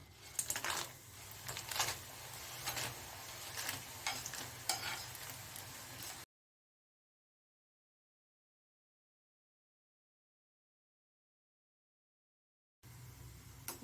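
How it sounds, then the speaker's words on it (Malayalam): Chips frying in hot coconut oil in a pan give a crackling sizzle with sharp clicking pops for about six seconds. A long silent gap follows, then the frying briefly returns. "നല്ലപോലെ വെളിച്ചെണ്ണ ചൂടായതിന് ശേഷം അതിലൊന്ന് ഇട്ടങ്ങ് വറുത്ത് കോരിയെടുത്താൽ മതി"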